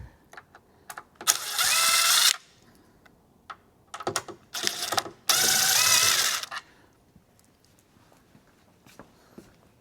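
Phillips machine screws being backed out of a speaker cabinet: two longer bursts of dense, whirring driver noise with scattered small clicks and taps between them, close and fairly loud.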